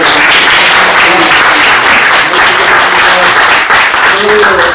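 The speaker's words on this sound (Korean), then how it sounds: "큰 박수로 수고하셨다고" A loud, dense wash of audience applause at a forum on Confucian culture in Geumsan, Korea, continuing steadily for several seconds with faint voices mixed in.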